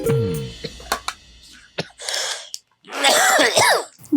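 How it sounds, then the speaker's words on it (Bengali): A hawker in a Bengali comedy drama, who sells cough drops all day, coughs himself: a string of harsh, close coughs and throat-clearing bursts, some with a strained voiced edge, separated by short pauses. "আর এখন নিজেই কাশতেছেন"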